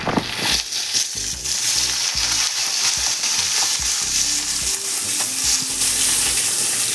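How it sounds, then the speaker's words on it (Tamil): Chopped onions and green chillies, added after curry leaves, sizzle steadily in hot oil while a spoon scrapes and stirs the pan in repeated knocks, close and continuous. "இப்போ நம்ம கட் பண்ணி வச்சிருந்த வெங்காயத்தை பச்சை மிளகாய் ஆட் பண்ணிக்கலாம்."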